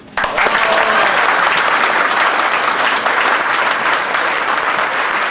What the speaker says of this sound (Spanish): Con los aplausos para el comandante del grupo Ollanta Humala-Caso.